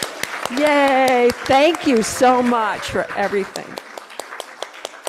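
Scattered hand claps from a church audience at a Christmas Eve pageant, coming in under a cheerful voice and then continuing as sparse, uneven claps.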